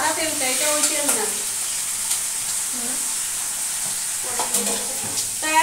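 A fish head fries in white cooking oil in a pan, producing a steady close hiss and crackle that runs continuously, with faint voices rising briefly in the background.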